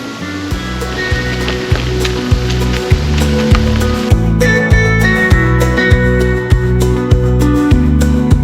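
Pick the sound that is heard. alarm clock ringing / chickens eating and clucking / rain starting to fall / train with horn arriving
rain starting to fall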